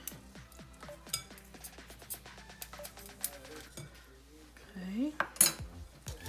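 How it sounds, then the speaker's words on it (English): Metal whisk clinking and scraping against a bowl while ingredients for a quick grab-and-go breakfast are mixed, a run of light rhythmic taps and clinks with a brief spoken word. "Whisk all this together."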